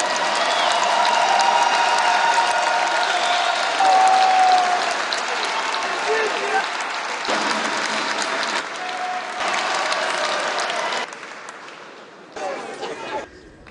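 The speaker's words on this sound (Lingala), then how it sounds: "Est-ce qu'on peut l'acclamer très fort?" A crowd applauds after a stage performance, with loud sustained clapping and some chatter. It thins out in stages, then fades to scattered claps near the end.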